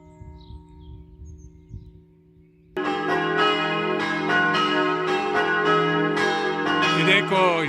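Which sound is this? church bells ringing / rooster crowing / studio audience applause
church bells ringing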